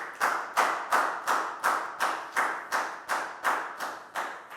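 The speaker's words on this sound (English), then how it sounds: "Big round of applause for Dan" Loud, crisp hand claps sound for a student named Dan in a Year 4 maths class, about ten evenly spaced beats in a steady rhythm, each sharp and close.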